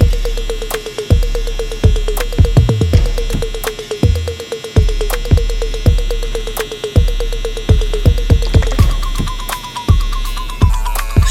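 A cordless Handy Master hair clipper with its lever fully open cuts hair during a high taper, giving a loud, steady close buzzing hum broken by repeated short clicks and strokes as the blade moves through the hair.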